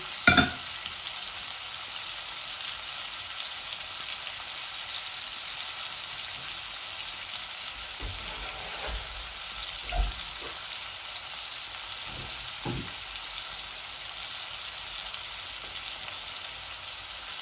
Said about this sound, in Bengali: মাছগুলা ভাজা হয়ে যাক